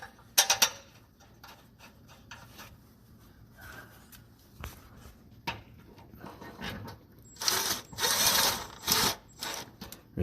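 Bolts being snugged on a transfer case cover, brand new countersunk head bolts going in by power tool, giving short ratcheting and clicking bursts scattered through the clip, with louder, denser whirring runs toward the end.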